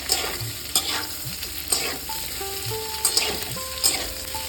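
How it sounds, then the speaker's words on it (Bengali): Thin-cut potato sticks fry in hot oil in a pan, a steady close sizzle broken by several sharp scraping stirs of a utensil, with no talk. "আপনারা এভাবে আলুটাকে ভেজে নেবেন"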